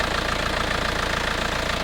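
A diesel car engine idling with a rough, raised noise, a steady close-up drone with a knocking, grainy texture and no talk.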